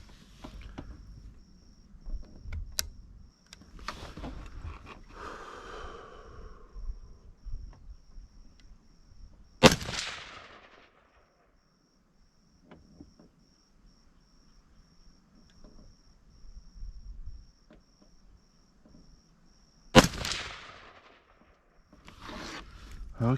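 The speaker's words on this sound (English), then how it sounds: "let me go ahead and fire the other couple of rounds and see where I'm hitting" Rifle shots ring out while a scope is sighted in, two loud, sharp cracks about ten seconds apart, each decaying quickly, with quiet handling noises and faint insect chirping in between.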